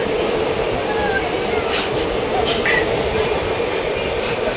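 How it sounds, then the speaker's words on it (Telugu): The Ratnachal Express pulls out of Tuni railway station with a steady, loud rumble of rolling wagons, heard from on board, with faint squeals and rattles rising and falling. "తుని రైల్వే స్టేషన్ నుండి అయితే మన ట్రైన్ అయితే బయలుదేరిపోయింది"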